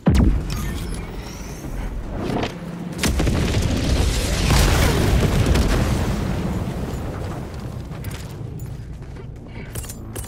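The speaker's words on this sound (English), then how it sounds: "Going in an orbital strike." An orbital strike in Helldivers 2 lands in a sustained, heavy roar of explosions, a loud rolling rumble building over several seconds with overlapping booms and blasts, then slowly fading, with faint voices beneath.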